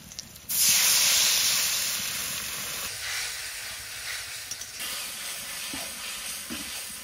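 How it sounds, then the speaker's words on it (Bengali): Spiced water hits hot oil in a pan for a Bengali hilsa curry, bursting into a loud hiss and sputter that slowly settles into a softer, steady sizzle with a few small pops. "এবার এই মশলার জলটা দিয়ে দেবো"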